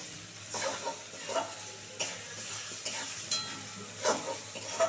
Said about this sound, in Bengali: এই যে এটা আমাকে সুন্দর করে এবার ভেজে নেব